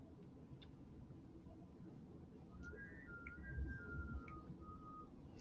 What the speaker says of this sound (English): Our fireplace acts as a chimney whistle when it gets very windy outside,